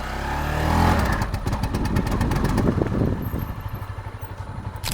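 A Honda CB300F motorcycle engine running with the throttle worked hard, its loud close-up rumble broken by a rapid uneven clatter of misfiring pulses that continues throughout with no voices.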